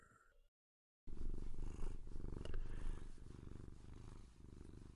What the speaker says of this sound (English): That is the sound of our cat.